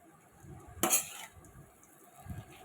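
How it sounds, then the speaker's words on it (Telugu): Potato pieces being stirred in a pan for chilli potato fry, a quiet soft scrape with one brief sharp clink of utensil against metal. "పొటాటో ముక్కలు వేసి కలుపుకోవాలి."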